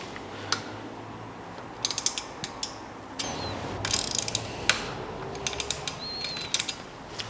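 A torque wrench fitted with a 3mm Allen key tightens the bolts of a Brompton Advance bike rack to 2 Newton meters, giving a string of sharp, close ratcheting clicks in uneven bursts over a faint background hiss.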